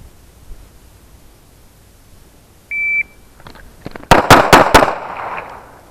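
A brief electronic shot-timer beep sounds, then after a short pause several sharp pistol shots crack in quick succession during a tactical pistol drill, loud and close with a rattle of echo afterward.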